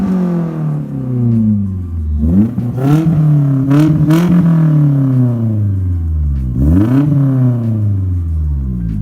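Revving engine of a 1989 Nissan 240SX with a new exhaust, heard close outside a shop: a deep, throaty idle broken by three sharp throttle blips that rise and fall, with a slight crackle on the overrun.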